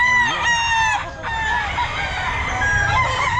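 Gamefowl rooster of the lemon sweater line crowing at a busy pet market, several long harmonic crows close by over steady crowd noise and other distant crowing.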